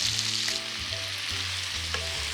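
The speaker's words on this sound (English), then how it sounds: "Right now we're charring the pork belly to give it a slightly deeper flavor and also make it less gamey." Pork belly chars in a hot pan with a steady broadband sizzle and a few stirring scrapes, close and continuous, with no voices.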